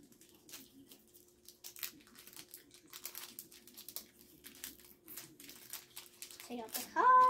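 Crinkly plastic rustling and crackling for several seconds, close by, as a basketball trading card pack is cut open, ending in a louder crisp tearing burst.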